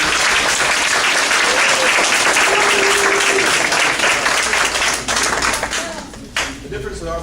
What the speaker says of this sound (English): please give the graduates a round of applause for all the hours they've taken